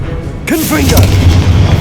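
A Confringo blasting spell detonates in Hogwarts Legacy with a loud, close boom and a rumbling tail, following a brief quiet moment; a voice is heard over the blast.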